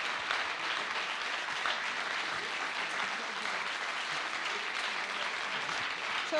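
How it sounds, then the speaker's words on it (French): An audience at a climate finance conference applauds, a loud, dense and sustained clapping that holds steady for several seconds without pausing. "Moi, je prends les applaudissements aussi."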